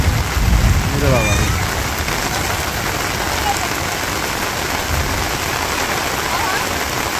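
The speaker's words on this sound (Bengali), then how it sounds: "বৃষ্টি অনেক জোরে নামছে।" Heavy rain pours down in a loud, constant wash of drumming and hissing over a village road, with a brief rising whistle-like sound near the start.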